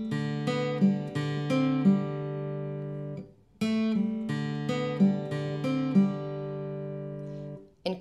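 Clean guitar plays a riff in G as picked chord arpeggios with ringing notes, in two repeated phrases separated by a short gap. It is close and clear, and no one speaks.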